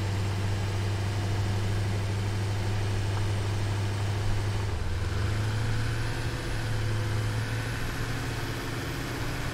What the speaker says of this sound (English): This is what I mean with the tractor. It's a lot of sound and not a lot of oomph.